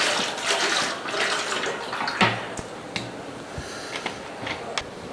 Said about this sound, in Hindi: ढाँपने के बाद हम इसके डेढ़ में थोड़ा सा पानी डाल लेंगे।